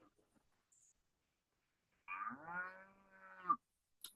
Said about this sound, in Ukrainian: Це корова.